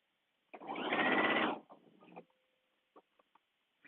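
A sewing machine runs in one short burst of about a second while stitching a gathered yoke on a day dress, then a few soft clicks and taps follow in a quiet room.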